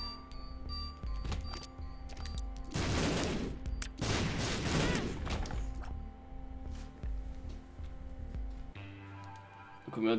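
Tear shots fired in The Binding of Isaac: Afterbirth+ on PS4, a run of quick, crackling pops in two dense bursts over the game's steady music, with no talk.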